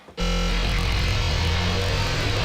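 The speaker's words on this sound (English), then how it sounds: "And now we can sweep through the original recording to make the sound morph." A recorded Lamborghini engine sample being swept through and morphed, a dense, loud, continuous roar that starts abruptly and holds steady with a messy, smeared texture.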